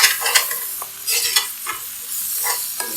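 Garlic and spinach sizzle steadily in a hot pan while being stirred and scraped, with repeated scraping strokes over the continuous fry. No voices are heard.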